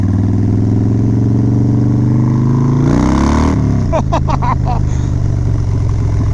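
A Harley-Davidson Dyna fitted with a Screaming Eagle 110ci stage 5 kit revs hard, its deep steady engine note rising in a loud burst of throttle before settling back into a rumbling idle, close and continuous.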